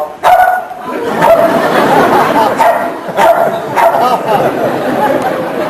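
A dog barks repeatedly in short bursts, fairly close and loud, mixed in with people chattering nearby.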